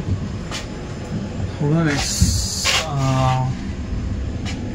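Steady low rumble of a moving train between Palakkad and Coimbatore heard from inside, with a couple of brief tonal squeals and hisses rising over it.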